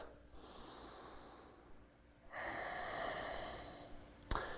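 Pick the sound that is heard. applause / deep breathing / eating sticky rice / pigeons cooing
deep breathing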